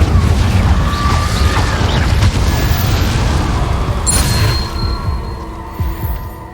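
The Incendio fire spell is cast in a Harry Potter video game: a loud, dense rumbling whoosh that throbs steadily, then fades slightly toward the end.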